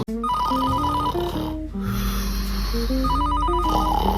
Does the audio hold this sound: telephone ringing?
yes